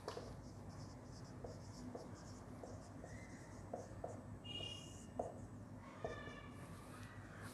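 Marker or chalk writing on a board during a chemistry lesson, a quiet series of short scratchy strokes and taps, with a faint high squeak near the end.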